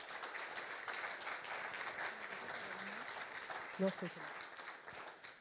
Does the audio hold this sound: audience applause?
yes